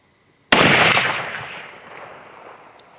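A single sharp rifle shot loaded with 55 grains of 4198 powder and a large rifle primer cracks out loud and close, then rings off in a long fading echo.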